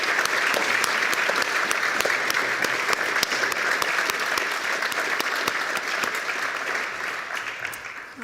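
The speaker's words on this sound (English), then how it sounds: "just go ahead and give everybody one big round of applause." Sustained applause from an audience standing at an honors ceremony, dense and steady clapping that fills the whole stretch and tapers slightly at the end.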